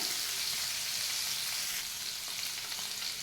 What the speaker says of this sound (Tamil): கேப்சிகமும் கொஞ்சம் ஆனியனும் அது கூட போட்டு நல்லா வதக்கிக்கலாம். பன்னீர் ஃப்ரை ஆகட்டும்.